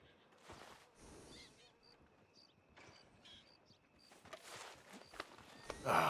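Horse hooves walk in Red Dead Redemption 2, giving soft, irregular thuds on the ground amid quiet game ambience, with a few light tack rattles and a louder bump near the end.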